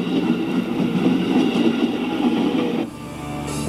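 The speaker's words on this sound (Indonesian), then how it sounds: "Terus ngerekam kereta." A train passes while someone films it, making a loud, steady rumbling roar with metallic rattle that drops off abruptly near the end, leaving a quieter background.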